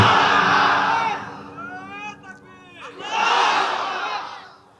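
At a religious gathering led by Mufti Amir Hamza, a large crowd roars a loud takbir chant, and a lone voice calls out briefly in the middle before the crowd answers with another mass shout.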